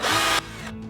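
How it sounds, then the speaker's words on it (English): A power drill drives a screw into a deck board, a loud steady whir for under half a second before cutting off, leaving a low hum. "I'm going to drill it in."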